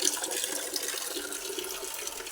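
Water gushes steadily out of an emptied water tank during a household water-supply turn, a continuous close rushing drain with no voices.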